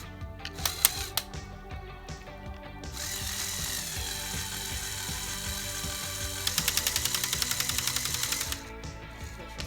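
Lego Technic 42070 remote-controlled motor whirs at close range while moving the outriggers, a faint mechanical buzz that steps up in pitch and gains a rapid clicking gear chatter toward the end.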